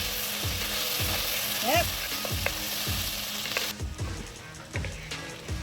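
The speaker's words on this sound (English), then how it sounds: "using the same pan, we're going to saute our onions" Chopped onions sautéing in a pan used for chicken, a steady broadband sizzle with rhythmic scraping strokes of a utensil about twice a second; a voice briefly speaks near the end as the sizzle drops.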